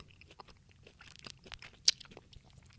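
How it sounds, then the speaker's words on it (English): Someone munches food right at the microphone, producing soft irregular chewing and crunching bites with a couple of sharper crunches, close and intimate, with no talk over it. "If you can hear me munching, man, I apologize."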